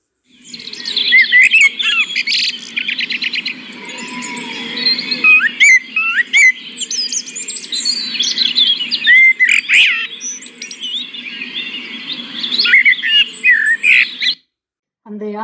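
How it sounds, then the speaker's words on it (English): Several birds call and chirp together, with a busy mix of squawks and tweets running continuously and fairly loud, cut off abruptly near the end. A blackbird is named as the singer. "the answer is the blackbird"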